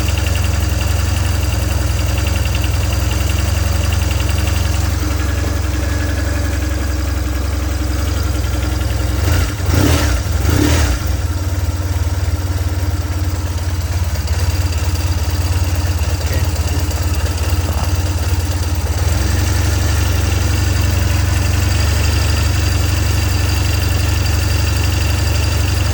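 A BMW R1150GS motorcycle engine idles with a steady low rumble, close and loud, holding even throughout apart from a brief clatter near the middle.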